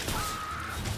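A harsh, brief caw from an enemy bird in the game Lost in Random: The Eternal Die, a single rasping call close up against a busy wash of game sound.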